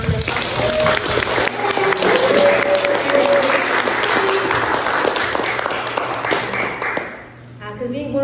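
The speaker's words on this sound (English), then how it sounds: "can we just give an applause for Unique for putting on this?" Audience applause at a poetry and storytelling event, a dense, steady wash of clapping from a live crowd that holds for about seven seconds and then tapers off quickly, with voices and crowd noise mixed in.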